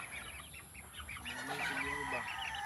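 Young chicks and hens cluck and peep close by in a coop, a busy overlapping cluster of short calls building in the second half.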